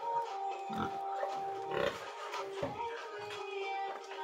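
Pigs on a farm pen grunt and oink in short irregular bursts beside a water drinker being built, with steady background noise and some rattling close by.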